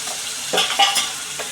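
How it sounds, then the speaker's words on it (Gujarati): Two onions sauté in oil with cumin, chillies, curry leaves and asafoetida over a low flame, giving a close, even sizzle. A few brief spatula scrapes rise in the middle. "લાઈટ રાખી સરસ આવી રીતે સોતળવાનું બદામી થઈ જાય ત્યાં સુધી"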